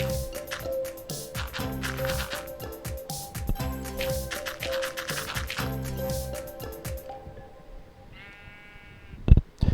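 Sheep bleating in the Minecraft video game, a couple of short bleats set against background game music, with a brief clatter near the end.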